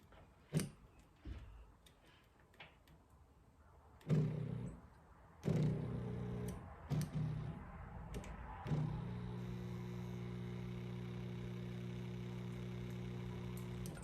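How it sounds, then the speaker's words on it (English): KitchenAid dishwasher starting up, a few scattered clicks and thumps followed by a steady low motor hum that settles and continues quietly to the end. "So that's why this thing is not very loud, but it's making a nice hum."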